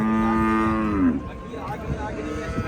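A calf at the Anthiyur cattle market lets out a loud, drawn-out moo that slides downward, then fades into a dull murmur of market background noise.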